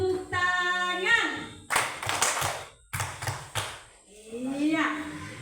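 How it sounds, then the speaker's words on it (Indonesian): Group of people in a classroom-style activity clapping hands on cue, a few sharp, close bursts of clapping set between stretches of a speaking voice. "2 kali tepuk tangan."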